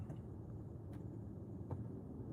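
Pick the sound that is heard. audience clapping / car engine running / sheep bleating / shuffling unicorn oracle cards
car engine running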